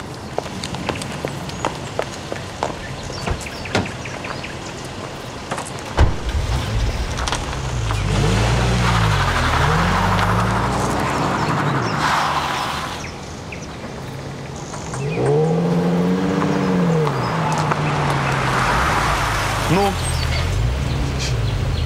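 A car drives in a dramatic film scene, its engine rising and falling in pitch through two revving passes, preceded by footsteps, with faint birds and brief voices in the background.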